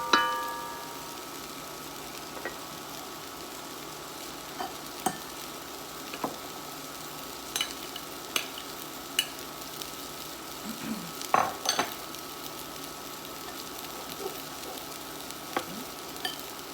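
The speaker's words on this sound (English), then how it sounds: "We're just browning the outside." Beef browning in a hot pan for stew gives off a soft, continuous sizzle, broken now and then by the scrape and clink of a utensil stirring it.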